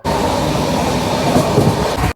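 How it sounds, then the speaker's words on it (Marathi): A train rumbles steadily with rolling clatter of wheels on track, loud and close, continuing throughout without any voices. "फायनली रेल्वे पहिल्यांदा बसलो आणि पहिल्यांदा रेल्वे चालू झाली"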